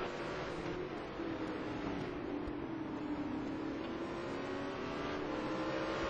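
A race car pulls out of a corner on the Nürburgring during a 2008 ETC Black Cup round, its engine a loud, sustained drone whose pitch dips, then climbs steadily as it accelerates, with no pauses.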